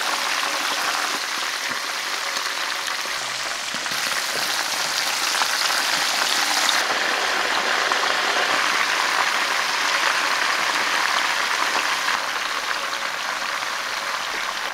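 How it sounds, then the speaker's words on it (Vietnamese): Quail frying in melted Tuong An margarine over medium heat, a steady close crackling sizzle like light rain that holds evenly throughout. "Bơ vừa tan là mình cho chim cút vào chiên luôn."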